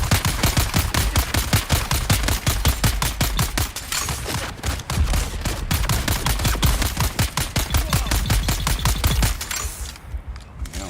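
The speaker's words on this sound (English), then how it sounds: "Hey, I wasn't shooting at you." Rapid automatic gunfire in Dune: Awakening, loud and close, a long sustained burst of evenly spaced shots with brief pauses that runs almost nine seconds before cutting off.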